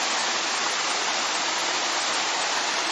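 Lágrima del Indio waterfall in Córdoba, swollen and in full flow, gives a loud, unbroken roar of rushing water that holds steady and close, with no voices.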